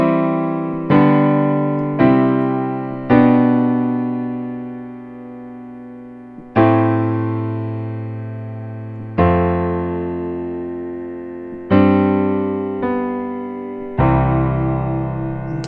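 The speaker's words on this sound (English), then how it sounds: "If I were to harmonize it with traditional chords," Piano plays a fugue bass line under full sustained traditional chords, a series of struck harmonies that each ring and fade, steady and unhurried with no voices.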